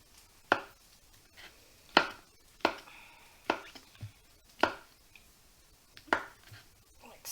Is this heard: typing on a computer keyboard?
no